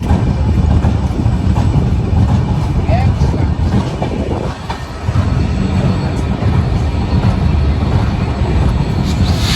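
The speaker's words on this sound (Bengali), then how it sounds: "নির্ধারিত সময় থেকে পনেরো মিনিটের বিলম্বে আমরা ছেড়ে যাচ্ছি বাংলাদেশের সবথেকে বড় railway junction Ishwardi junction railway station" The Kopotakkho Express rumbles loudly and steadily close by as it departs Ishwardi Junction station in Bangladesh, with a faint clickety-clack of wheels on rails and a brief dip in the noise midway.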